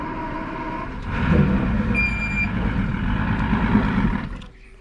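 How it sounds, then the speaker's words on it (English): A starboard outboard engine on an Angler 252 fishing boat turns over and catches, settling into a steady close rumble with a short electronic beep, then dropping off near the end. "And so now I'm going to fire the starboard engine,"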